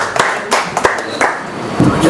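Short bursts of hand clapping from a small gathering at a library inauguration in Kishanganj, cheering a child, loud and close with uneven gaps between claps.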